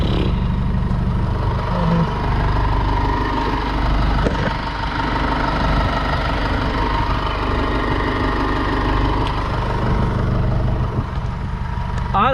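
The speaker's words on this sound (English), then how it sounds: "you can hear the fuel pump" A car engine idles steadily with a low rumble and faint mechanical ticking, while a thin, constant fuel pump whine hums underneath throughout.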